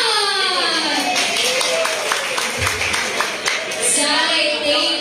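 An audience claps for a contestant at a Mr and Ms alumni pageant night in Surigao, scattered applause from a crowd rising under a loud host's voice and crowd chatter.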